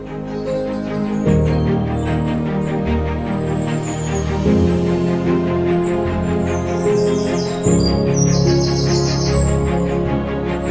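Birds chirp and crows caw in a forest, with bright calls scattered through the upper register above a continuous, loud musical drone that shifts chords every few seconds.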